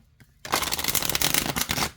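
A crystal oracle card deck is shuffled up close, starting with a light tap and then a loud, continuous riffling rush of cards lasting over a second.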